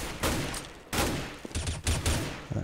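Several quick bursts of gunfire from a Counter-Strike match crack out in separate rapid volleys, fairly faint and distant, with no talk over them.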